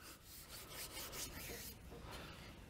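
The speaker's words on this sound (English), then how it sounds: "we have a hand rubbed boiled linseed oil finish on this rifle" A hand steadily rubs boiled linseed oil into the wooden stock of a 1903A3 rifle, making a soft, close friction sound in even strokes.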